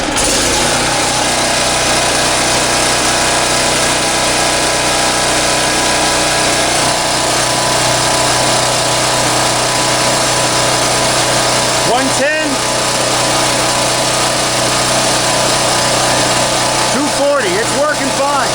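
A small petrol engine, started on choke, runs at a steady high-pitched buzz close by throughout, loud and unbroken, with a few faint knocks near the end.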